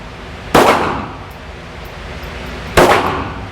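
Two sharp gunshots fired at a target on a shooting range, each a loud crack with a short decaying tail, spaced about two seconds apart over a quiet background hum.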